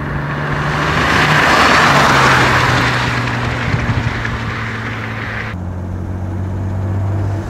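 A 1967 Jaguar E-Type 4.2 Roadster engine drones steadily and pulls away, its low note rising and shifting as it gathers speed, with broad road and wind noise throughout.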